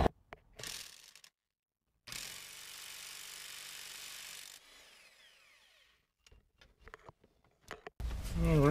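A ratchet wrench clicks on 13 mm pulley bolts on a Ford Taurus, close and sharp, with a few seconds of steady whirring ratcheting followed by scattered single clicks and a voice at the end.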